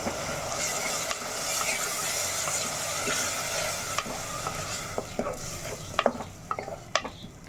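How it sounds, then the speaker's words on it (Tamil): Onions and tomato paste sautéing in a pan for chicken salna produce a steady close sizzle, with scraping stirs and a cluster of louder clinks and scrapes toward the end. "தக்காளியோட பச்சை வாசம் போகிற வரைக்கும் நல்லா வதக்கி எடுத்துக்கலாம்"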